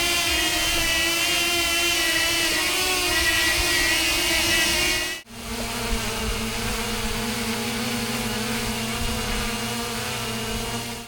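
A DJI Mini 3 and a DJI Flip drone hover in sequence, each with a steady, loud, high-pitched propeller buzz; a brief dropout near the middle separates the first, whinier drone from a second with a lower hum.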